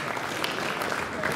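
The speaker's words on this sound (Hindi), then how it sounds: "श्रीपद नायक जी के लिए जोरदार तालियां" Applause for Shripad Naik at the Sagar Manthan conclave, a brief steady wash of many hands clapping in a hall, moderately loud and even throughout.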